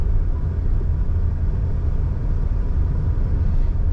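Steady low engine rumble of a car driving on the Fuman to Rasht road in Gilan, Iran, continuous and fairly loud, with no voices.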